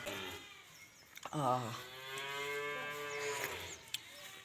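A single long, loud moo from a nearby calf rises and holds for a few seconds over quiet background noise.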